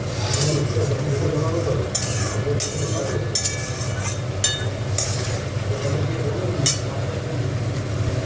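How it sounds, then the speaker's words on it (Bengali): Spice paste for a katla fish-tail kalia is stir-fried in a pan with splashes of water, giving a steady close sizzle with scraping strokes and occasional metallic clinks of the spatula. "জল দিয়ে দিয়ে কষছে, নাহলে মশলাটা পুড়ে যাবে।"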